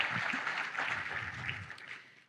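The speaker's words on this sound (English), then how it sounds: "Would you please give them a round of applause?" An audience at a conference opening gives a short burst of applause for the event sponsors: dense, fairly faint clapping that fades out after a couple of seconds.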